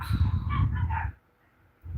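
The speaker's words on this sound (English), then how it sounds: "The dogs be barking." Dogs bark several times in quick succession, loud and close, followed by a short quiet gap and then another bark starting at the end.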